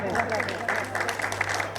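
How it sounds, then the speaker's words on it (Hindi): An audience claps through a short burst of steady, dense applause in a hall during a tribute event for an actor, with a low mains hum beneath and no voices standing out. "गाना कौन कौन सुनना चाहता है, अच्छा गाना, तो तालियों से बताएं जरा"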